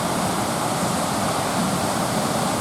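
Waterfall rapids in Wisconsin rush in a loud, steady, broadband roar of churning water, close by and unbroken, with no voices over it.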